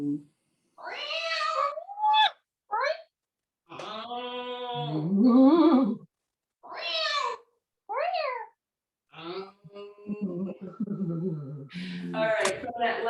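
Several people on a Halloween-themed pilates call imitate cat meows and cow-like moos by voice during a cat-cow pose, a string of drawn-out, wavering calls separated by short pauses.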